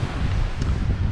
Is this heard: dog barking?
no